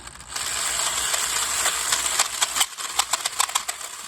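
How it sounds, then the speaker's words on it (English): A simple generator is hand-cranked to spool wire, producing a steady close mechanical whir that breaks into rapid ratcheting clicks toward the end. "Start slow and start spooling up your wire, and then really start going."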